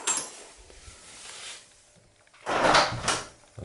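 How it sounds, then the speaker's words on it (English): A kitchen door is opened at home. Faint rustling comes first, then a louder clunk and rattle of the door moving, close by and with no voices. "like opening the kitchen door"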